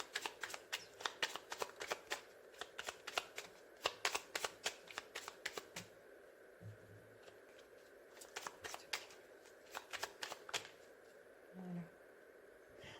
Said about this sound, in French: On va mettre une carte sur l'invitation.